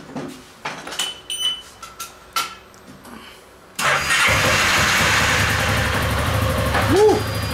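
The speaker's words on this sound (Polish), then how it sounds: "pierwsze uruchomienie silnika z MP3" A Piaggio MP3 500 scooter with a knocking engine fault starts close by after several seconds of scattered clattering handling sounds, then settles into a loud, steady running drone.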